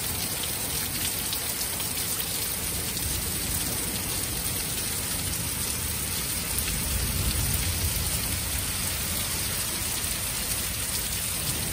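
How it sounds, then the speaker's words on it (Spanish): Steady, even rain pours down during a thunderstorm, a dense hiss of drops hitting surfaces with a faint low rumble beneath. "Ya hacía falta que viniera la lluvia"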